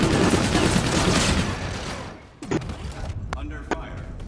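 Gunfire in a shooter video game: a sustained burst of rapid shots that fades out, then a few sharp, separate cracks, with a voice speaking over it.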